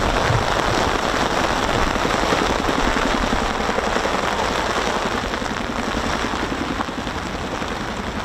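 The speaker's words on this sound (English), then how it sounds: "Can you hear that downpour, man?" A heavy rain downpour at the Royal International Air Tattoo airshow, a dense, loud, continuous hiss and patter of drops hammering nearby surfaces, steady throughout with no voices.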